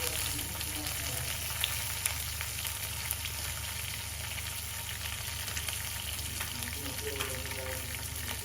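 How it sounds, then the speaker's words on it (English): Green chilies sizzle in hot oil in a pan for a chicken curry, a continuous, even frying hiss with occasional small pops, close and steady throughout. "Then we're going to put the green chilies in."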